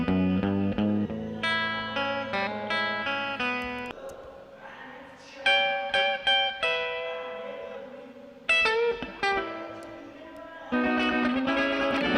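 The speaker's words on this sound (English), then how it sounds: "And then I've got these other elements, these other guitar elements in here that are playing." Electric guitar parts processed with built-in effects play in short melodic phrases with distinct plucked notes, echoing and ringing tails, and brief pauses between bursts.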